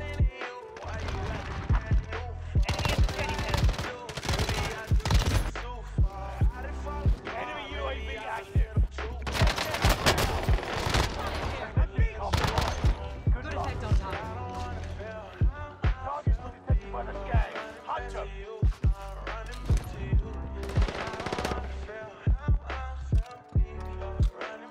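Rapid machine-gun and rifle fire in the shooter game Battlefield 5, sustained loud bursts through most of the stretch with short gaps, mixed with game noise and occasional voices.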